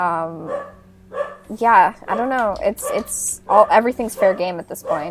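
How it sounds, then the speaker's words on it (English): A dog barks repeatedly in bursts, loud and close, with yips and whining tones overlapping people talking in a room. "Sorry about the barking."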